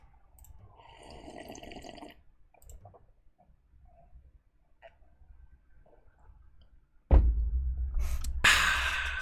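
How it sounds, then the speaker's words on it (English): A person drinks water, with gulps and liquid sloshing close to the listener, rising suddenly and loudly near the end after quieter small movements. "Let me drink some water while I..."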